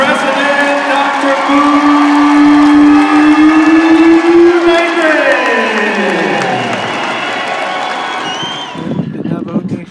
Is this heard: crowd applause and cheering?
yes